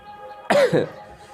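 A single sharp cough, close and fairly loud, rising from quiet and fading quickly.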